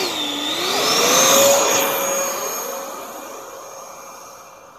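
An RC F18 model jet with an elevon setup screams overhead at full throttle, its whine sweeping up and down in pitch as it passes close by, swelling loud then fading away.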